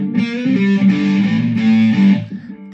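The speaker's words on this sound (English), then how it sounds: "that main riff will sound like this" Three-string cigar box guitar tuned to open low G chugging the main riff through heavy distortion, palm-muted bends and slides repeated in a driving rhythm, played alone and close.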